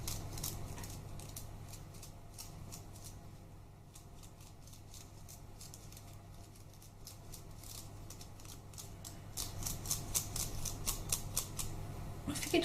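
Scissors snip repeatedly while cutting material for a handmade flower, a run of quick, dry clicks in loose rhythm that grows denser and louder toward the end, close by with no speech.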